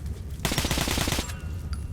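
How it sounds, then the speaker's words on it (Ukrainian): Rapid bursts of automatic gunfire crackle for under a second, loud and close, then give way to scattered distant shots in the game soundscape of Metro: Last Light. "Так, хтось уже стріляє."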